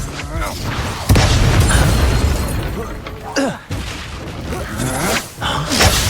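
A booming explosion spell, Expulso, in the Hogwarts Legacy video game, a loud blast hitting about a second in and then decaying, followed by further bursts and magical whooshes during a duel.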